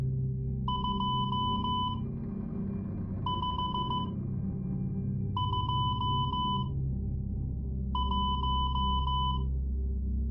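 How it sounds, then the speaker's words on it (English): Four evenly spaced bursts of rapid, high electronic Morse code beeps, each a quick run of short pulses, sound clearly over a low, steady background rumble. "I'm going to send it in Morse code."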